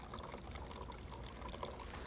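A rechargeable figure fountain spills water over its sides in a steady, soft trickling wash, continuous and fairly quiet, with no voices.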